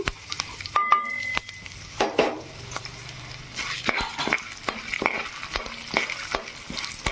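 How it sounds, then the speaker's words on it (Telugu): Chana dal, urad dal and mustard seeds frying in oil in a pan, an uneven sizzle with spoon scrapes and sharp clatters, rising and falling as the mixture is stirred. "ఇదిగోండి శనగపప్పు మినపప్పు ఆవాలు ఇది ఫ్రై చేసుకుందాం"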